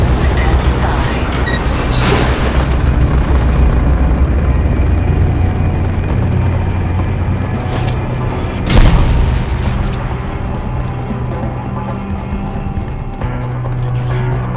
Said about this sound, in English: Did you see when the bomb went off?